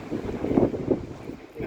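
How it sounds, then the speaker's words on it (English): Strong gusts of wind in Haarlem city centre batter the microphone in rough, uneven bursts, a close, muffled roar rising and falling over a couple of seconds. "So obviously a very windy day"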